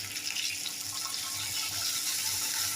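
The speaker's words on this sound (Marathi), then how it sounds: "थोडं मसाला धुवून पाणी घालूया" Water splashes and pours steadily into a cooking pan of stuffed capsicum and masala with a bright hissy wash, close by, with a faint low mechanical rattle underneath.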